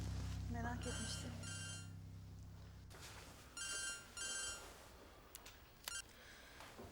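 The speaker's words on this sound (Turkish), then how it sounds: "Telefon çalıyor." Indoors in a Turkish drama scene, a telephone rings in two short trilling bursts, then two more after a pause, faint beneath a low hum.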